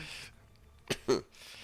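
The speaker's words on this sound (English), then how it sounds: "Trying to choke back these coughs." Two short, harsh coughs come close together near the middle, each an abrupt burst from someone still sick, with quiet room tone on either side.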